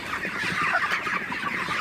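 Broiler chickens fill a poultry house with a steady, dense chorus of clucking and chattering, a continuous flock sound close by with no voices.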